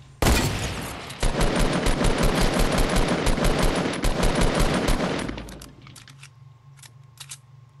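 Sniper rifle fire in a video game's blitz mode: a rapid, rhythmic burst of loud, sharp shots rattles on for about five seconds, then stops, leaving faint clicks and a low hum.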